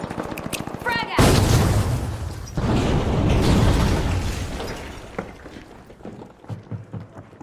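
A frag grenade detonates in the video game The Finals: one loud close blast with a long crackling, rumbling tail that slowly fades, after a brief voice.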